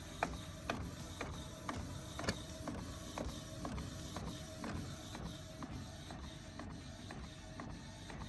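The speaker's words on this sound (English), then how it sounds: "that is now coming out through the top of the printer" An inkjet printer prints onto fabric for hair bows, producing a steady mechanical whir with regular clicking and ratcheting ticks from the moving print head, close and continuous with no talk.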